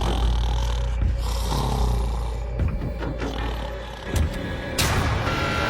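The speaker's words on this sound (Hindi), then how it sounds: "वो स्टूपिड कॉप सारी रात खर्राटे मारता रहा।" A sleeping police officer snores through the night in a prison-style dormitory, making deep, rough, rattling breaths that repeat loudly and close up over a constant low rumble.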